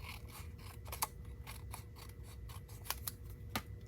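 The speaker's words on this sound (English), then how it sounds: "I'm going to trim this off." Scissors trimming paper for a card craft: a steady series of crisp snips, several clearly sharp ones standing out, close by and fairly quiet over a soft room hiss.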